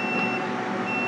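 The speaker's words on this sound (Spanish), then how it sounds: "La alarma está ahí activa." Scheduled maintenance alarm on MAM6080 equipment (oil life end), a steady high electronic tone sounding continuously and fairly loud over a low mechanical hum, with no talking.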